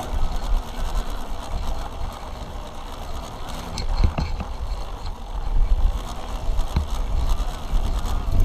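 Haibike XDURO FullLife RX electric mountain bike climbing a steep slope in gear 3: a steady mechanical whir and ticking of the motor and chain drivetrain, fairly close and continuous, with wind and rolling noise and no talking.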